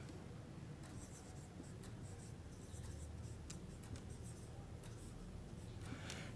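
Writing during a physics lecture, soft continuous scratching strokes with scattered light taps, quiet and close with no talk.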